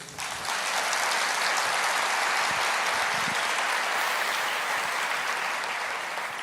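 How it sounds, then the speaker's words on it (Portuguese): Steady, dense applause from a church congregation praising the Lord during a sermon, loud and continuous throughout with no talking over it. "Pode aplaudir o Senhor."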